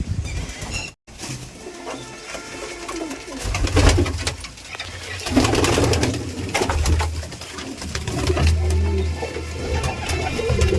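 Soft, low pigeon coos repeat through the clip, rising and falling in bursts against a busy, rustling background.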